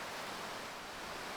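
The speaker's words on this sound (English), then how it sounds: "that waterfall is getting loud" A waterfall in a VR fishing video game roars as a dense, steady, unbroken wash of rushing water, fairly close and without talk.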